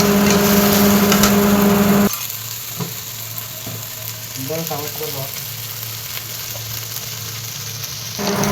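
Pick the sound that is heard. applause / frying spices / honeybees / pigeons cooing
frying spices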